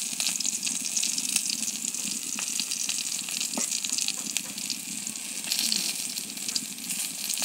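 Dried fish fritters frying in oil in a pan as they are turned over, giving a steady, close sizzle with faint scraping clicks throughout and no talking.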